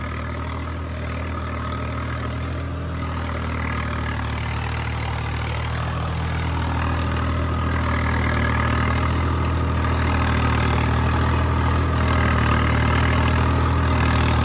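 A steady, low engine rumble idles continuously throughout, growing slightly louder toward the end, with no voices.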